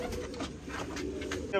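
Pigeons coo softly among a pigeon fancier's flock of pure white racing birds, a low murmuring layered over steady background bustle for a moment.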